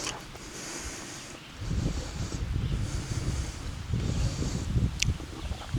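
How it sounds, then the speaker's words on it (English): Gusty wind blows outdoors at a lake at a camping spot, a rushing low rumble that swells in waves against the microphone with no voices. "And it's a little windy."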